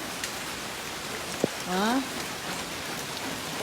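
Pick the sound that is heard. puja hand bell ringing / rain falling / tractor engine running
rain falling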